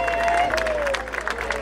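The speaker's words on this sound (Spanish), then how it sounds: "con los aplausos, ahí está" A crowd at the Fiesta del Cordero festival claps and cheers in a dense, continuous burst of applause, with a faint tone sliding downward underneath.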